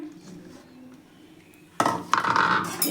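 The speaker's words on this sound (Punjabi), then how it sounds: "ਆਪਾਂ ਢੱਕਣ ਨੇ ਦਾ ਡੱਬੇ ਦਾ ਖੋਲ ਲੈਣੇ ਆ" A lid is pulled off a container of set curd at home in the morning, a quiet rustle followed by a sudden loud clatter of plastic and a few sharp clinks close by.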